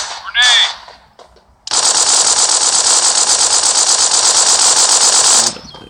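Video game combat: a short burst at the start is followed by a long, loud stretch of rapid automatic gunfire that cuts off abruptly, with a grenade thrown amid the action.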